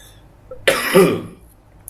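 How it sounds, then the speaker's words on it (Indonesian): A single short cough, like someone clearing their throat, close by in a quiet room. "Gue minta maaf ya, ada batuk-batuk gue."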